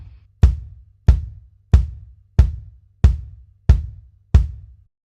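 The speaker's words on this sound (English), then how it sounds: "the Logic kick sounds like this." Unprocessed stock Logic kick drum from a MIDI drum track, struck seven times at a steady, even pace, each hit a dry, punchy thump with a short decaying boom, heard alone.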